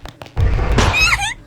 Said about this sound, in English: It was a loud, dull thud, followed by silence.